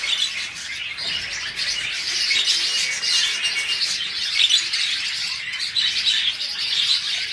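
A pair of blue Fischer's lovebirds kept as pets chirps and squawks nonstop, a loud, dense chatter of overlapping high calls with no voices over it.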